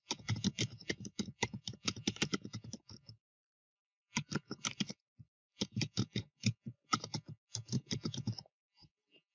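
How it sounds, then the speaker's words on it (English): Rapid keystrokes on a computer keyboard as an email address is typed, close and fairly quiet, in bursts with a pause around the middle and a few isolated taps near the end. "you type in the email address of yours"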